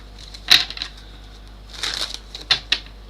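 Tarot cards are shuffled in short, crisp bursts of riffling and clicking, a few separate snaps spread across the moment, fairly close and fairly quiet.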